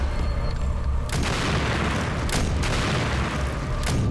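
Loud, sustained booming blasts from Return to Castle Wolfenstein, with a heavy low rumble running throughout and sharp bursts near 1, 2.3 and 3.9 seconds, consistent with rocket launcher explosions in combat.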